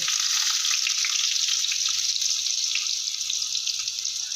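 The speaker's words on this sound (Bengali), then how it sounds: "আলুগুলো আগে দিয়ে একটু ভেজে নেব" Potatoes frying in oil with dried chilli and cumin seeds in a pan, producing a loud, even, continuous hiss and crackle with no talking.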